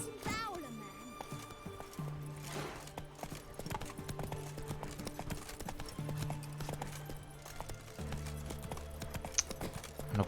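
In the video game The Witcher 3: Wild Hunt, a horse's hooves clip-clop in a steady rhythm for about ten seconds, with game music and voices underneath.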